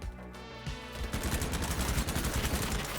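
Rapid bursts of automatic gunfire from a Groza rifle in Battlebit Remastered during a nighttime raid, starting after a short lull and rattling on densely and loudly to the end.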